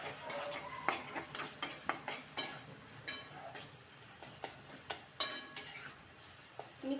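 Red chili powder is mixed into a traditional Maharashtrian bhogi vegetable curry, with a spoon clinking and scraping against the pan in quick uneven strokes over a faint sizzle, quiet and close, with no voices.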